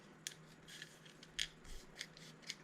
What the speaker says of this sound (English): you're going to take the scissors and just cut a slit at the straw on each one